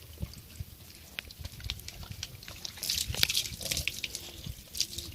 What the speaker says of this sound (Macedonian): Топла вода е, Бори.